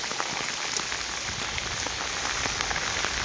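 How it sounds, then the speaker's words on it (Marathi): Steady heavy rain pours down on a hard surface, a dense continuous hiss dotted with sharper drips and patters. "पाऊस बघा पडतोय किती"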